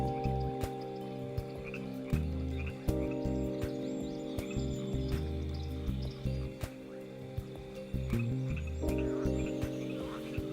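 Frogs and toads call together in a wetland, a steady chorus of croaking with repeated low pulses and overlapping voices, faint insect and bird sounds above, no talking.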